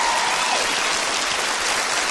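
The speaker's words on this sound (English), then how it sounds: "That's worth a round of applause, ladies and gentlemen." Studio audience applause on the Irish dating game show Take Me Out, a loud, steady wash of clapping that fills the whole stretch without any voices over it.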